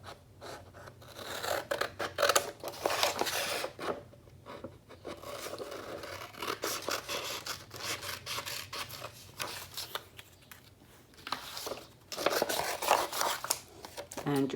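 Scissors cutting out a dried paper ice cream cone for a first grade art project, close crisp snipping and scraping blades in irregular bursts, with paper rustling and occasional creaks throughout.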